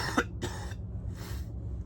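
A person coughs three times in a row, loud and close, each a harsh burst with short gaps, after a night of dry heaving from edibles.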